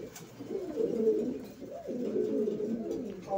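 Pigeons kept in a loft in Havana coo steadily and close by, low throaty rolling calls repeating in overlapping waves with no talk.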